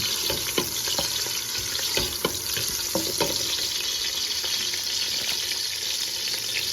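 Onions and bay leaves frying in a pot for chicken pulao, a steady close sizzle with occasional stirring clinks and scrapes, no talking.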